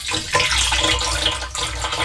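Water running weakly from a low-pressure water source at a campsite in Morocco, a continuous gurgling, splashing trickle nearby, steady and fairly loud with slight surges, no voices.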